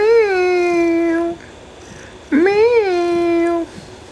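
A cat gives two long, drawn-out meows separated by a short pause, loud and close, the second rising and then falling in pitch.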